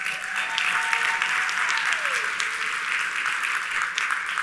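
A large audience applauds steadily for contestants and the stage crew, a dense sustained clapping that holds at an even level throughout.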